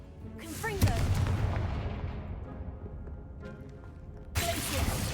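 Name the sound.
Confringo spell blast in a Hogwarts video game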